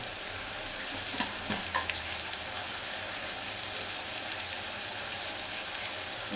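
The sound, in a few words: ridge gourd and prawn curry frying in a pan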